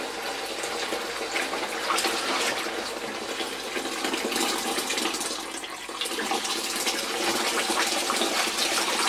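Tap water gushing steadily into a sink to soak a vintage Hoover cloth vacuum bag, a constant bright splashing rush that continues unbroken throughout.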